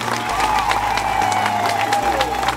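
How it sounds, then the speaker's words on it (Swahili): A crowd at an Uhuru Torch race rally applauds, steady dense clapping that holds throughout, close and fairly loud, with a faint low hum beneath. "mpigieni makofi mengi sana"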